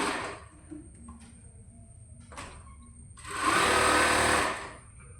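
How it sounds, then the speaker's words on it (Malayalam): Sewing machine stitching the crotch seam of children's pants, a loud steady whirring run of stitching near the end after brief quieter bursts and handling noise. "ക്രോച്ച് ഏരിയ അത് ഇതുപോലെ പിടിച്ചിട്ട് അറ്റത്തേക്ക് തയ്ച്ചെടുക്കുക"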